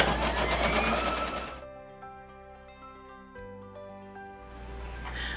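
An embroidery machine stitches a scalloped border on a quilt block, a loud fast mechanical chatter with steady tonal motor hum that keeps going throughout, shifting pitch partway.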